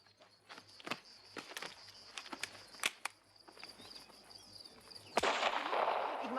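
Scattered sharp pops and cracks at irregular intervals, fairly faint, followed by one louder gunshot fired into the air and a noisy rush afterward.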